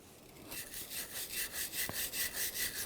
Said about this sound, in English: I'm just going to use a wire brush.